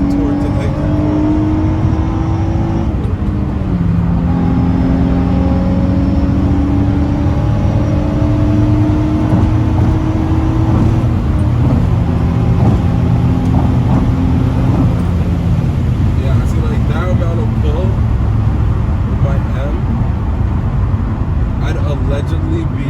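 An Infiniti G35 drives a mountain road at night, its intake and exhaust rising and falling through gears in loud, close engine drones with rising pitch sweeps and throttle lifts; someone talks over it.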